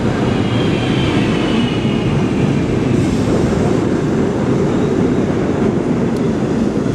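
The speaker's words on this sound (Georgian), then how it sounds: "აი მე მგონი მოდის მატარებელი მოდის" A train pulls into a station, a steady loud rumble of wheels and carriage noise filling the scene from start to finish with no voices.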